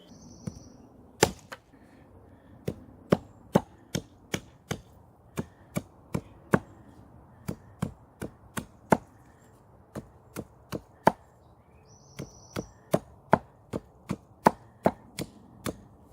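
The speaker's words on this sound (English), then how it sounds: "Going on to some finer chopping, it's a very controllable tool." Sharp, crisp chops of a SOG Voodoo tomahawk doing fine chopping into wood, struck in a steady rhythm of roughly two per second, close up with no talking.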